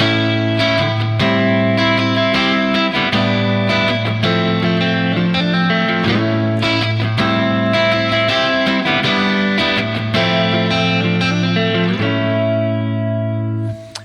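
An effects-laden electric guitar plays a sustained chordal passage from a song, a section centred on A, with steady low bass notes, loud and continuous, ringing out at the end.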